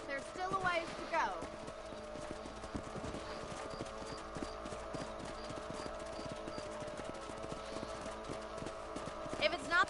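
Steady clip-clop of horses' hooves while riding in the video game Red Dead, continuous and rhythmic at a moderate distance, running throughout with a brief whinny near the start.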